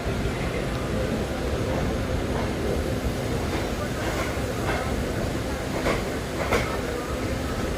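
Continuous rail noise from a train rolling along on a Konkan Railway journey, a dense rumble with faint rhythmic wheel clicks heard from on board, with no clear passing sound.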